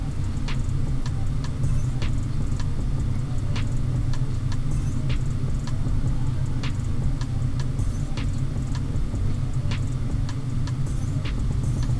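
A mini cleaver's mounting holes are opened up bit by bit for handle hardware, likely with a power drill or rotary tool: a steady, close, droning motor hum carries on throughout with regular light ticking clicks, and no one talks.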